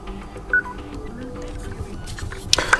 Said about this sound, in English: And right now we can hear the notification that Bluetooth pairing mode is turned on.